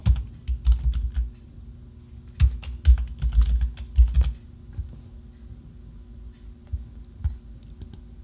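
Typing on a computer keyboard: quick bursts of close key clicks, irregular and clustered, with pauses between, over a faint steady hum.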